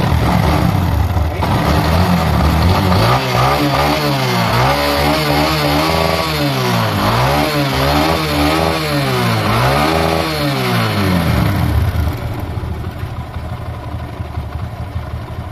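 A motorcycle engine runs loudly nearby after carburetor tuning, revving up and down in several waves before settling to a quieter idle.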